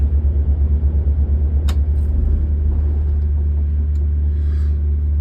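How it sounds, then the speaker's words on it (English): Close, loud diesel rumble of a semi truck engine being switched off in the cab: a pulsing idle throb that loses its beat partway through, leaving a steady low drone and a couple of faint clicks. "We'll just turn the truck off and count to a minute."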